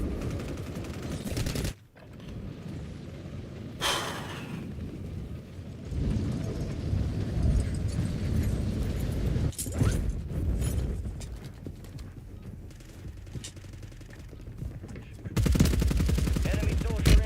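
Gunfire in the Warzone battle royale video game, with bursts of shots and mechanical clatter mixed among game effects, starting and stopping in loud blocks over busy background sound.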